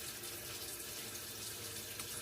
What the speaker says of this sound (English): I'm gonna run my hot water